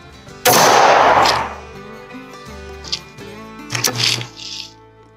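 A Stevens 301 shotgun fires one loud, close blast outdoors, its boom decaying over about a second, with shuffling and handling noises afterward.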